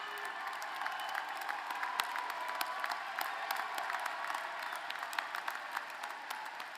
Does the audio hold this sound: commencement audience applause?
yes